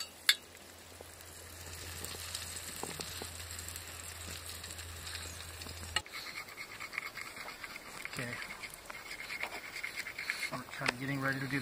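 Bacon frying over an outdoor cooking fire gives a soft steady sizzle and crackle, with a low hum early on and a person speaking now and then over it.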